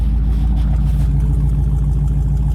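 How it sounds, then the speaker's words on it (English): A 1956 Dodge engine idles with new mufflers fitted, giving a steady, deep, low rumble with an even exhaust pulse, loud and close, with no voices over it. "It actually just goes into gear. It idles."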